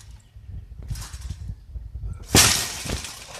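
Glass artwork smashes on a floor in one loud burst of shattering and tinkling, following quieter bumping and scuffing noises.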